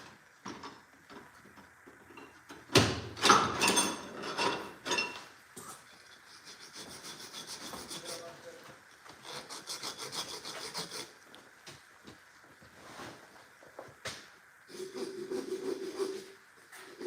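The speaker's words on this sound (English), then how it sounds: "I'm going to give that a little bit of a file." A metal file rasps a burr off the shoe of an RC car, giving a near, steady run of scraping strokes with a louder burst early on, continuing at moderate level without talk.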